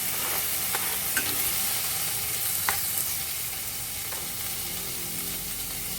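Tomatoes dropped into a pan of browning mixed vegetables sauté with a steady, soft sizzle, broken by a few faint clicks of a spoon stirring, no voices.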